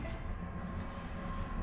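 A freight train hauled by two E 189 electric locomotives in an Alpine rail setting rumbles past close by, a steady, loud, continuous roll of wheels and wagons with no break.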